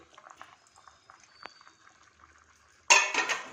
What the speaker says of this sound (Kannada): ಎಲ್ಲ ತೊಳೆದು ನೀರು ಹಾಕೋದು ಇದಕ್ಕೆ